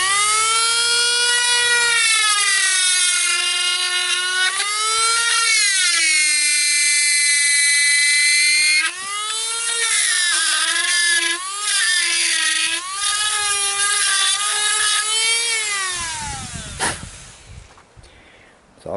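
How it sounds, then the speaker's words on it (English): A Dremel rotary tool grinds a groove across a pine knot being carved into a wood spirit, its high whine rising and falling in pitch as the bit bites the wood, loud and steady for most of the cut before trailing off. "Got the bit in the Dremel."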